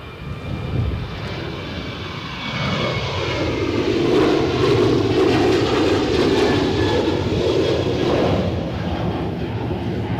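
A Pilatus PC-24 business jet at Edinburgh Airport gives a steady, loud jet engine roar that swells after a few seconds and holds, heard nearby in gusty wind with no talk.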